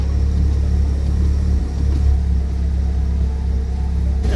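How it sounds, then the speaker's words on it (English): An Ecotec-swapped Mazda Miata idles with a deep, steady rumble while the brakes are pressed, holding an even note with only a slight dip partway through. "Now, if I stomp on the brakes, the RPMs shouldn't fluctuate."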